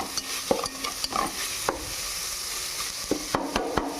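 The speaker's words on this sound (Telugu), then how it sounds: "దీంట్లోకి రైస్ వేసుకుందాం." Rice is stirred into hot oil in a pan for curry leaf rice: a continuous sizzle with scraping stirs and scattered sharp clicks of a utensil against the pan.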